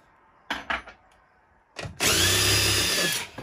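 A power drill drives a long 10 mm socket on the bolts of a Dometic 13500 BTU RV rooftop air conditioner, first in a few short bursts, then in one sustained loud whir lasting over a second.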